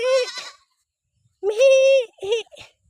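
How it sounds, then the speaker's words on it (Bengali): A baby goat bleats nearby, with one short cry followed by a longer drawn-out bleat and a final brief one, each separated by quiet gaps. "এই যে দেখো একটা ছাগলের বাচ্চা"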